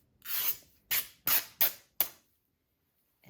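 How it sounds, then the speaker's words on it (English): Silk fabric torn by hand along the grain in five quick successive rips, each a sharp crisp tearing burst, the first longest and the rest shorter, close and fairly loud with silence after. "to cut your silk, you want to measure it and make a little cut. And then"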